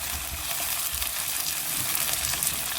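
Tomato and green chillies sizzle steadily in hot oil with golden-browned onions, a loud continuous frying hiss throughout with no talk.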